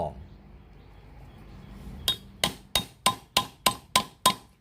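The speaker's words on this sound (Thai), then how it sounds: "ใช้ค้อนทุบอีกที" A hammer strikes the joint of old rusty pliers eight times in a quick, even rhythm, each a sharp ringing metallic clank, close and loud after a quiet start.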